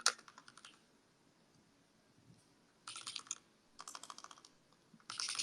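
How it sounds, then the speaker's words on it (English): Typing on a mechanical keyboard with Glorious Panda switches comes in bursts of crisp, close key clacks separated by quiet pauses, with several quick runs of keystrokes. "Can you guys hear my keyboard?"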